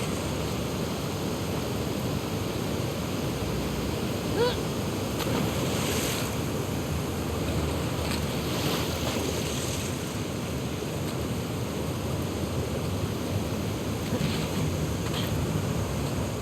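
Ocean waves roll and surge as Ellie swims toward the aquarium in The Last of Us Part II, a continuous loud roar of surf and wind with occasional splashy peaks, no talking.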